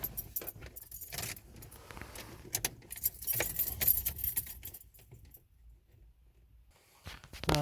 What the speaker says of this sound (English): Now let's turn the key on, the ignition on.